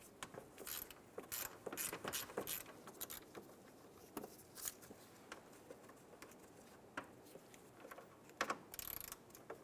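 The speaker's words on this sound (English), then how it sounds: "Using a 10mm socket, we're going to undo the two bolts for the fan assembly." A ratchet with a 10mm socket undoes the fan assembly bolts on a 2003-2007 Infiniti G35, making quiet, close bursts of rapid clicking separated by short pauses and faint handling noises.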